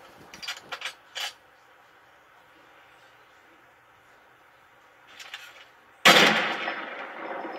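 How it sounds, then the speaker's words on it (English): Sniper rifle shots in the Fortnite video game: a few sharp cracks early on, a fainter shot later, then a loud blast with a lingering tail near the end, all against a quiet background. "I eventually just keep firing bullets at him, just because, why not? Make him scared of the sniper."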